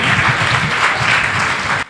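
Loud, steady clapping from a gathered audience welcoming a member of parliament, a dense burst of applause that stops abruptly just before the end.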